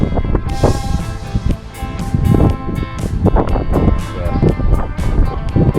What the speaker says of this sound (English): 30-mile-an-hour winds on average here today, gusting a lot stronger